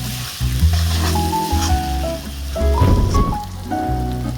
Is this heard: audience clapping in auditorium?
no